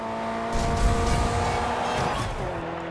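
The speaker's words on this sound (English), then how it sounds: "Engine even sounds good, which is always a bonus." A 2011 BMW X5 M engine revs in Forza Horizon 2, a steady loud drone that swells and then settles over about three seconds, with no voices over it.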